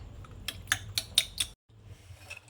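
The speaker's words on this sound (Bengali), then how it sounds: "নুন আর চিনি দিয়ে একটু ভালো করে ফেটিয়ে নিই" A whisk or spoon clatters against a bowl, beating a mixture with salt and sugar: five quick, close metallic clinks in a run, then a brief silence and a faint low room hum.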